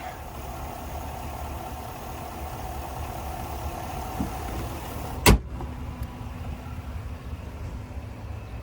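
The 6.2-liter V8 of a 2021 GMC Sierra 1500 Denali Ultimate idles with a steady, low, even hum heard from nearby, broken once by a single sharp click partway through.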